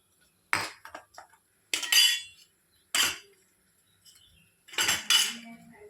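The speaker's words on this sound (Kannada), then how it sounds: "ಸೊ ಇವಾಗ ನಾವು ತರಕಾರಿ ಎಲ್ಲ ಹಾಕಬೇಕು. ನೋಡಿ, ಇವಾಗ ಹಾಕ್ತೀನಿ." Vegetables, potatoes first, are tipped into a pot for veg pulao, making four separate clattering bursts of pieces striking metal with quiet gaps between them and no talking.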